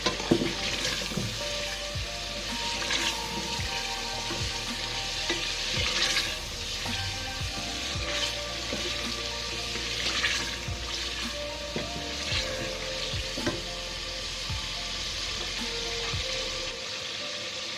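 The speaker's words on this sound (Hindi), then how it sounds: "अब इसको हम इसके ऊपर ये बारीक थोड़ा छोटे कटे हुए आलू भी डाल के भून लेंगे" Small, finely chopped potatoes go into onions and oil for a white chickpea curry, with a continuous crackling sizzle throughout. Repeated spatula scrapes and knocks punctuate it, and a low steady hum sits underneath. No speech.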